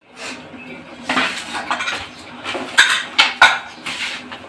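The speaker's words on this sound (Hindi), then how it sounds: "देखिए दोस्तों अभी मैं इस थाली को लेकर के आ गया हूँ।" A metal thali plate is set down and handled with cutlery, giving a string of bright clinks and clattering knocks, some sharp and loud, some softer, at close range.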